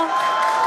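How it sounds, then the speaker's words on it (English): Crowd cheering and applauding with excitement at a SpaceX Starship Flight Test 4 launch as Super Heavy and the vacuum Raptor engines burn, a steady roar of distant voices and clapping that runs through without a pause. "you can hear the crowd is very excited about it"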